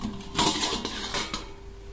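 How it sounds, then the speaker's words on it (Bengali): Metal lid lifted off a pot of steamed egg pudding, a couple of close clanks and scraping clatters of metal on metal within a short moment. "এবার চাপাটা খুলে নেব।"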